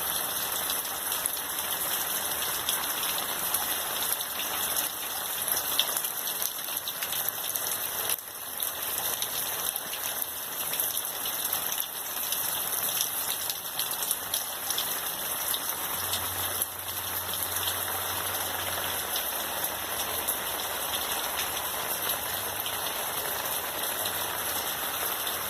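Steady rain falling on a collection of potted plants outdoors, a continuous dense hiss of drops on leaves and soil with no voices, holding at an even level throughout.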